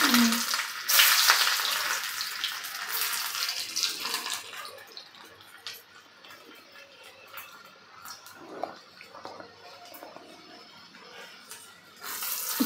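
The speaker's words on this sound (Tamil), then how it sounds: "கடுகு, அப்புறம் பூண்டு நல்லா ஃப்ரை ஆகட்டும்." Mustard seeds and garlic hit hot oil in a home kitchen with a loud, hissing sizzle that fades over a few seconds, followed by quieter cooking with occasional small pops and clinks.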